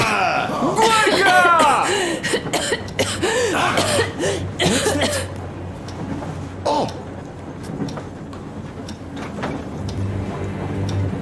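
Anna coughs in the video game Metro Exodus, a series of harsh, close coughs and throat clearing in the first half, mixed with voices and a low background rumble.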